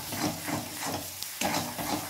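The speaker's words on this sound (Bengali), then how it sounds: "ওই জন্য অনবরত এটা নাড়তে হবে।" Shim (flat bean) seed bharta being stirred in a frying pan, a steady low sizzle under repeated scraping strokes of a spatula against the pan bottom, close and continuous with no voices.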